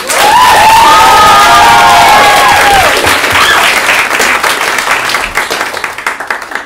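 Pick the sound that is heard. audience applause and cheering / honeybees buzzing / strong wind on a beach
audience applause and cheering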